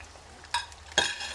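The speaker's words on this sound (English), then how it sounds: "And you saute them for a little while." Red and green capsicum, hot chilies and crushed garlic are sautéed with browned meat for a Lebanese stuffed eggplant dish. A soft sizzle runs beneath two brief, sharp stirring scrapes close to the pan.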